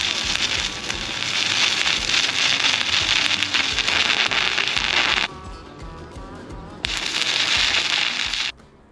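A stick welding arc crackles and spits loudly on an old car bumper during a beginner's practice run, a dense continuous buzz that breaks off briefly midway, restarts, then cuts out near the end.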